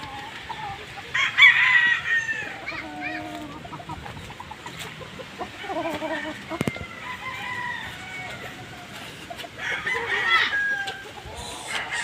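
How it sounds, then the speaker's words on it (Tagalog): A flock of mostly roosters with a single hen crows and clucks nearby, several drawn-out crows rising over busy clucking and rustling, with occasional sharp knocks and faint background voices. "Puro mga tandang yan. Merong nakahalo na isa lang na babae."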